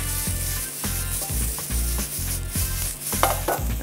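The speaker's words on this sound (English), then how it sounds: "So we're going to saute the peppers out with a little bit of oil, like a quick sear on them" Sliced peppers sauteing in a little oil in a hot pan give a steady loud sizzle, broken by regular stirring scrapes and tosses, with no talking.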